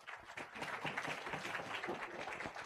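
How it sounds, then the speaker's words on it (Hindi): Congregation clapping during a church sermon, a continuous, fairly faint wash of many hands applauding together with a dense, uneven patter throughout. "परमेश्वर की तालियां बजाइए"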